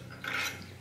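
A metal shell plate on a Lee Breech Lock Pro reloading press turned into place with a wrench, a short close mechanical grinding scrape and faint click, quiet and brief.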